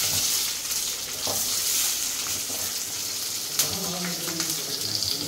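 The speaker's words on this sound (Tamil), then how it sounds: "இந்த ப்ராசஸ் வந்து பார்த்தீங்கன்னா கறி வறுக்கிறது." Country chicken (nattu kozhi) meat frying in a pan for a Chettinad dish, a continuous broad sizzle and hiss with occasional stirring clinks and scrapes, close and steady with no talk.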